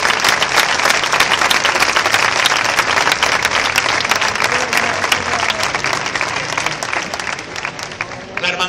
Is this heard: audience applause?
yes